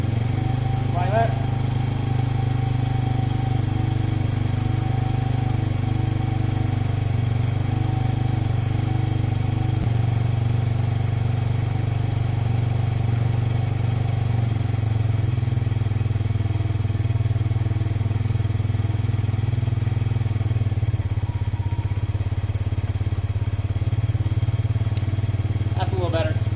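A near-mint quad bike's small engine idles steadily while warming up, a continuous low droning putter held at an even level throughout, close by with no other sounds over it.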